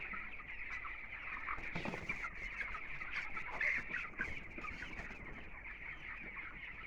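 A flock of 18-day-old broiler chickens raised on chopped-straw litter inside a poultry shed keeps up a dense, steady chorus of clucking and chirping, with no one speaking.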